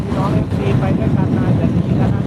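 A Mercedes-Benz convertible drives with its top down, filling the scene with a steady, loud, close roar of wind buffeting and road noise that never lets up.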